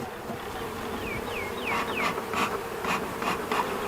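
Honeybees in an opened hive during a first inspection after a cold Texas winter give off a steady, close, dense buzz, with a few chirping sweeps and soft ticks riding over the drone.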